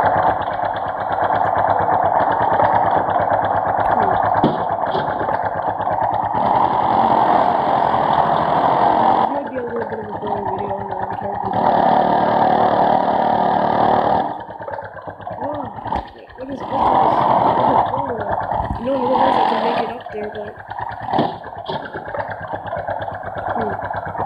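In the Truck Driver 2 video game, a truck engine labours in low gear off-road, a loud, steady, distorted drone that runs throughout and shifts in pitch as the throttle changes.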